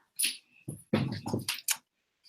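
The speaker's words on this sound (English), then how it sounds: "Could not sit here and listen to the dog scream the entire time." A pet dog whining and yelping indoors to be let in, a handful of short, sharp cries in quick succession with brief pauses between them.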